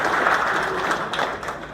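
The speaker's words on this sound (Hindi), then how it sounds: "तो ताली किसके लिए होनी चाहिए?" Brief, steady applause from an audience of electricians at a Polycab award event, a dense wash of clapping with no distinct voices.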